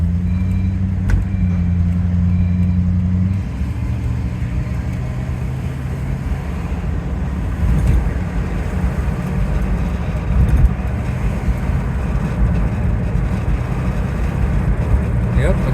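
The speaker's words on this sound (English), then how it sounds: "from inside here with the open window, we're hearing the exhaust leak at the loudest" A Rolls-Royce Silver Shadow engine with an exhaust leak drones steadily with a raspy, rumbling exhaust note, building gradually as it accelerates, heard from inside the cabin with the window open, road and wind noise.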